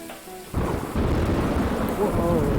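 Thunder rumbles in a rainy fishing video game, a heavy low roll breaking in about half a second after quieter rain and then holding loud and sustained over steady rainfall to the end.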